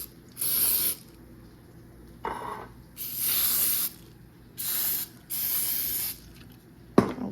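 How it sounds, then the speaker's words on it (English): Cooking spray hissing from an aerosol can onto a muffin pan in a home kitchen, in several close, sharp bursts of varying length separated by short pauses, ending with a small click. "But I'm gonna spray this muffin pan on up."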